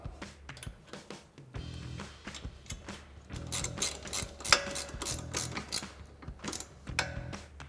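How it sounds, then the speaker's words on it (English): Ratchet with a 10mm socket tightening the bolt that holds a brake hose on a 2005-2010 Mustang, quick repeated clicking strokes in bursts, close and fairly quiet, with no talk. "reattach our bolt holding our brake hose and tighten it down with our 10mm socket"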